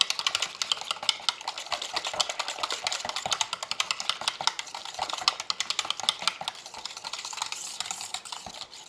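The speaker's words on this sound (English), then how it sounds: "I'm going to work with a wire whisk now to get this last bit mixed in" A wire whisk mixes a thick shaving soap batter, making quick, light rhythmic clicks and taps against the bowl that continue steadily throughout at a close but soft level.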